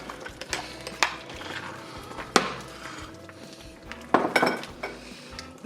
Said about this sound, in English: now I'm going to add in my carrots